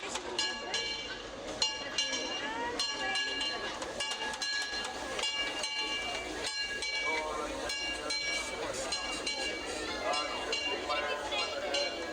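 A Disneyland Railroad train ride with steady rolling rumble, rail clatter and faint clinks, while voices talk throughout over the continuous mechanical noise.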